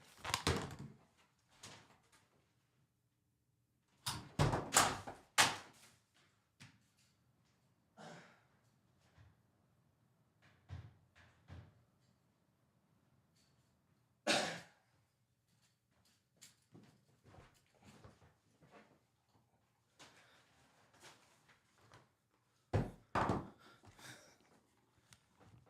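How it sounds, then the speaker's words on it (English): Front door of a house opened and closed, several sharp clunks and thuds scattered through an otherwise quiet room, with faint movement and breathing between them. "I swear I heard the front door open"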